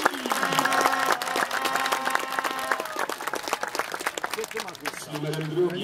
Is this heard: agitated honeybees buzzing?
no